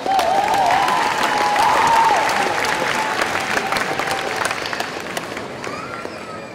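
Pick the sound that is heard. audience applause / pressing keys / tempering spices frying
audience applause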